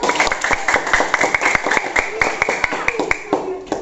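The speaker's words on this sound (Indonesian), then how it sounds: "Kasih tepuk tangan dulu kelompok 1." A classroom of students claps for group 1, dense sharp hand claps close by in an irregular, energetic burst with some voices mixed in.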